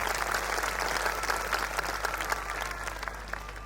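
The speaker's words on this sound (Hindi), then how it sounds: "एक बार जोरदार तालियों के साथ स्वागत करेंगे" Loud, steady applause from a satsang audience in Ellenabad welcoming a visiting maharaj, dense clapping sustained throughout with no pause.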